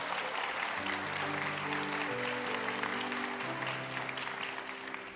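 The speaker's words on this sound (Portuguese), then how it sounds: "dê um aplauso ao Senhor" Congregation applauding in a church service, steady dense clapping throughout with sustained organ or keyboard chords and faint voices underneath.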